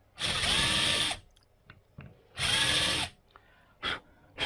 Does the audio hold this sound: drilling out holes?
yes